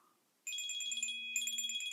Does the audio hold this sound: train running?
no